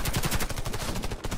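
Rapid burst of gunfire in the shooter game Warface, a loud, dense run of close shots packed back to back for over a second.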